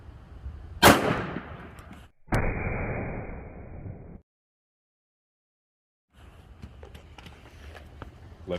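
A single sharp, loud shot from a Smith & Wesson M&P Shield 9mm firing a Critical Defense round, followed by rumbling handling noise and a stretch of silence.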